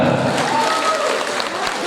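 Wedding-party guests clap in unison to mimic falling rain during a game, producing a brief burst of dense, even applause from a crowd nearby.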